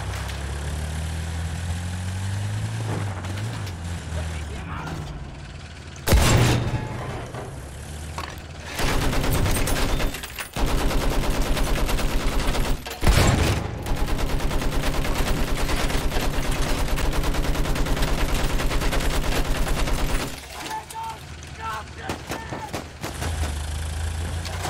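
Battlefield 1 gunfire in a long-range firefight with a Behemoth, a dense rapid stream of automatic shots with a few heavy booms over a rumbling engine bed.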